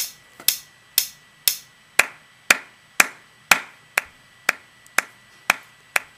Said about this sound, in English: I'm just going to clap my hands or something